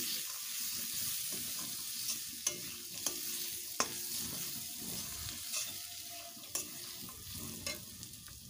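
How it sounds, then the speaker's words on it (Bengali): Peanuts and chickpeas fry in a little oil for a bottle-gourd dish, a steady soft sizzle with irregular stirring scrapes and a few sharp utensil clicks, close and alone. "আমি অল্প তেলেই রান্না করছি"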